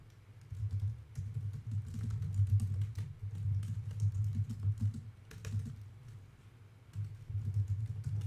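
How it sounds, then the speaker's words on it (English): Code is typed on a computer keyboard in steady bursts of close, rapid key clicks, separated by short pauses, with no talking. "let's just type this out."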